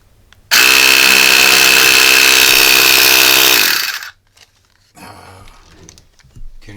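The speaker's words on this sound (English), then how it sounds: "Can you see the piston going up and down?" A small DC motor driving a piston in a cheap AliExpress gadget whirs loudly and steadily for about three seconds, then winds down and stops, followed by quieter rattling handling noises.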